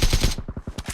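Rapid automatic AK-47 bursts in the battle royale game BGMI (PUBG Mobile), loud and close, a dense burst of about three shots followed by several more evenly spaced cracks.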